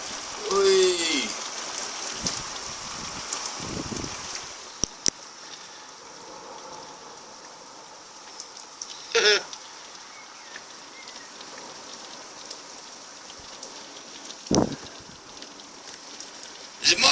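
Heavy rain pours down steadily outside in a flash-flood downpour, a continuous dense hiss with occasional louder splashes and drips, plus a short exclamation near the start.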